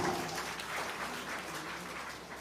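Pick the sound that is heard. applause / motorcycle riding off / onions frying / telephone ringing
applause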